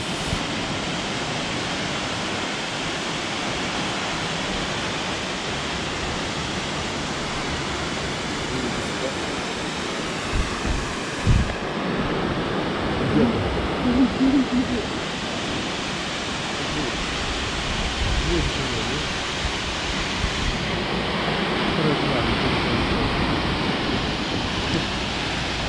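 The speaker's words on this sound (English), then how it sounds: "Okay, here's Bear Creek Falls." Bear Creek Falls on Red Mountain Pass, Colorado, pours with a loud, steady broadband roar of rushing water that fills the whole stretch without pause.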